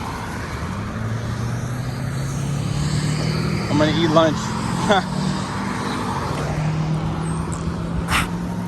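Steady traffic rumbles from a nearby highway in Minneapolis, Minnesota, with cars and trucks passing, while a person talks briefly over the road noise.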